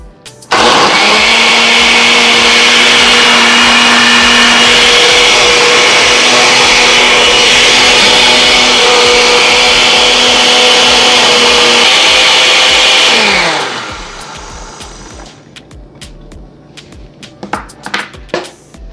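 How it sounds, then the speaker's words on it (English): Kitchen blender pureeing carrots for Jamaican-style carrot juice, a loud, steady motor whir lasting about thirteen seconds before spinning down, followed by quieter clinks and handling noises. "I'm just gonna blend it and puree"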